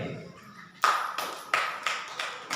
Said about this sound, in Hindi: सही है तो ताली बजाइए